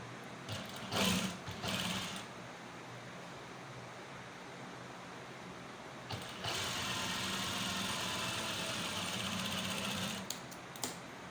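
A sewing machine stitching a shirt runs in a long, steady mechanical whir at moderate loudness, preceded by a few short bursts of stitching and stopping with clicks near the end.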